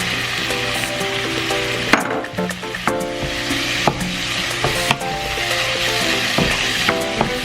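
Cumin seeds crackle and sizzle loudly in hot oil in a pan for chicken handi kadai curry, with a spoon scraping and knocking in a steady stirring rhythm, close up and without talk.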